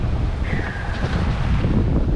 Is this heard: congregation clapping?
no